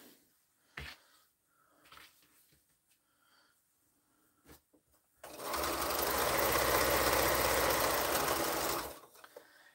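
A domestic sewing machine runs in one steady, close whirring burst of about four seconds while stitching a quilt block seam, preceded by soft handling clicks and fabric rustles.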